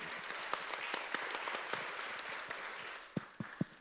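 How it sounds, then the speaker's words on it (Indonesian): Conference audience applause for three panelists at a finance society event, fairly quiet and distant, a crowd of hands clapping with a few sharper close claps standing out near the end. "Silakan berikan tepuk tangan dulu."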